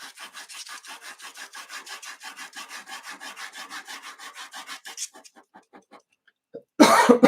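Rhythmic rasping drawing strokes repeat steadily, then slow and stop; after a short pause, a sudden loud cough bursts out close by.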